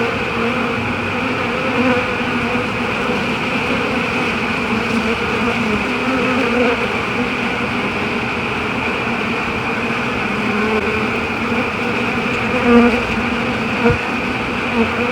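A swarm of honeybees buzzes close and continuously outdoors in Metairie, Louisiana, a dense steady hum that swells briefly near the end, with no talking.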